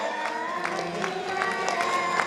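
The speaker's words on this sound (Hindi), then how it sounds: "बजेगी ना? बज गई। हाँ, दोनों हाथ से बजती है" Devotees at a Ramayan katha gathering clap in a loose rhythmic beat, each clap landing at a regular interval amid crowd chatter and voices.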